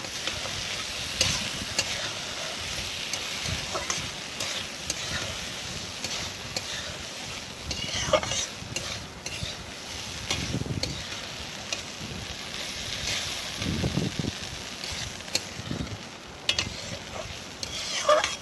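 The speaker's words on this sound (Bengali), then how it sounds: "এরপর ডিম ভাজা আর তিল রান্নাটা একসঙ্গে মিশিয়ে ভালো করে নাড়াচাড়া করে নেব।" Fried egg and sesame seeds being stirred together in a hot frying pan, with a soft, steady sizzle and occasional scraping and stirring clatter, fairly quiet with no voices.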